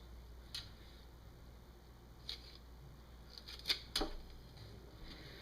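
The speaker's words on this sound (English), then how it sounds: "I just chop that off. Take the feet and cut those off." Short, quiet snips as the feet are cut off a duck, a few isolated cuts spaced out and then a quick pair, each over a low steady background hum.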